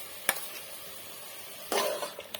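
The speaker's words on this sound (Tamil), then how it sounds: "எல்லாம் மிக்ஸ் பண்ணி விட்டுக்கோங்க." Ground masala is stirred into frying country chicken curry in a pan. Two distinct scraping bursts of the spoon sound over a faint background sizzle, close and fairly quiet.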